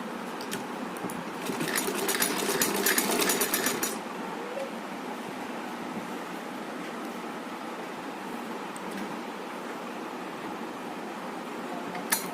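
A sewing machine stitches round the edge of a Laddu Gopal ribbon dress, a steady close whir with a louder, busier stretch early on and a continuous running hum after.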